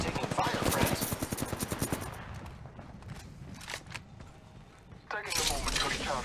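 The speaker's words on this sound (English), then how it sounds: "I am taking fire, friends" Incoming automatic gunfire in Apex Legends rattles in a fast, loud burst of close shots for about two seconds, then thins into scattered distant pops and clatter before another burst of noise returns; a voice speaks over it.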